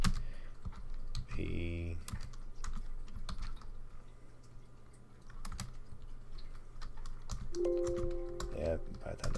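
Quick bursts of clicking keys on a computer keyboard, typed close by in short runs with pauses, while a person speaks quietly in between.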